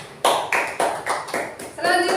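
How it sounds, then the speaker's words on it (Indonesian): Classroom of pupils clapping hands together in a burst of applause, several distinct waves of claps close by, with faint voices underneath. "Tepuk tangan ya."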